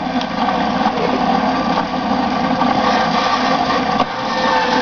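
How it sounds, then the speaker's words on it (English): Motor of an RCBS Case Prep Center for .308 brass running steadily, a constant whirring hum with a faint mechanical buzz and no speech. "I'll just turn on the RCBS Case Prep Center"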